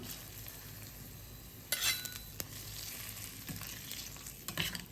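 Tempering poured over curd rice in a pan, sizzling with a steady crackle, sharp spitting bursts near the two-second mark and again near the end, close and alone.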